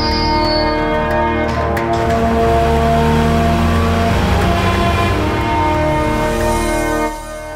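A car engine runs and revs steadily, loud and close, with a brief bell-like ring near the start before the sound cuts off abruptly at the end.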